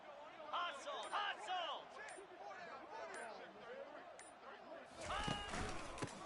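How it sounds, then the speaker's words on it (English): Stadium crowd roaring and cheering in a Madden football video game, a continuous dense wash of voices with a louder swell near the end, a commentator talking over it. "This crowd bringing the energy and noise early."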